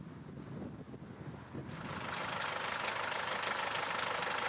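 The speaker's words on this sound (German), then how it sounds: "Bauer Blauel holt seinen alten Trecker mit dem Spezialkartoffelernter." An old tractor pulling a special potato harvester runs steadily nearby, its engine a rough, continuous drone that swells louder and fuller partway through.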